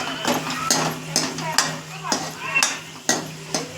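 Garlic paste frying in oil in a pan, a continuous close sizzle broken by repeated sharp scrapes and clinks of a spoon stirring at a quick, uneven rhythm.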